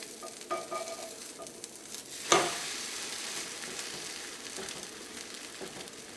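A bread omelet is turned over in a hot pan, one sharp clatter of the flip followed by a swell of louder sizzling that settles into a steady fry.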